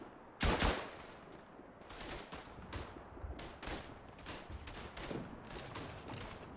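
Gunfire rings out in the World War I video game Tannenberg: a sharp, loud opening shot, then a steady run of shorter cracks and bursts over a hazy battlefield din, with rifle and machine-gun fire at mixed distances.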